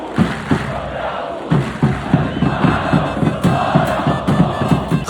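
Zamalek football fans in a stadium chanting and cheering in rhythmic waves, a dense roaring crowd with repeated shouted beats, loud and close all the way through.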